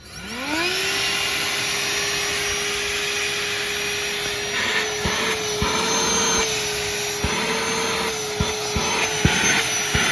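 A Dewalt 20V cordless handheld HEPA vacuum, model DCV501HB, switches on and runs steadily with a rising motor whine that settles into a constant high hum, close and loud, with brief handling clicks.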